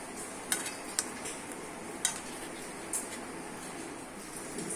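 Kadai pan being handled and covered with a lid while cooking parda biryani, giving several sharp metallic clinks and knocks at irregular intervals over a low background hiss.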